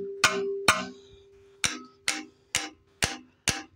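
Sharp metallic whacks of a tool striking engine valve springs during a 1989 Ramcharger engine teardown, seven ringing hits in quick succession, each with a brief springy ring-out, close and alone.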